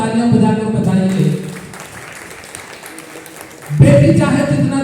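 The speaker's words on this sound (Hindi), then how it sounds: "अगर आप सब मूड में आ गए तालियां बजाकर बताइए" Audience applause at a Hindi poetry recital by a poet: a broad burst of clapping fills the middle of the moment, with the poet's voice before and after it.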